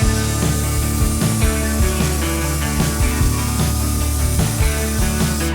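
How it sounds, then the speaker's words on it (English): Power sanding on a part from a 1975 Corvette with a 4-speed, a steady droning hum with rough rubbing texture and regular pulsing strokes, close and loud throughout. "While cameraman gets that sanding done"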